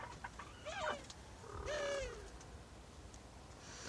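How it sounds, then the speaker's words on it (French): Two soft, wavering coos from a turtle dove, one early and one a little later, fairly distant against quiet outdoor background. "Parfois les tourterelles elles se mettent tous à chanter"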